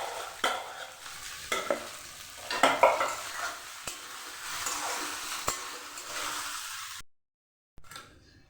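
Cooked rice being stir-fried in ghee in a pan for pulao, a close crackling sizzle with frequent spatula scrapes and clicks, swelling and fading irregularly before a brief silence and a final scrape.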